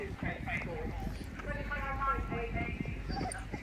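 A big horse cantering around a grassroots showjumping course, its hooves thudding in a steady rhythm on the ground, fairly close, with someone talking over it.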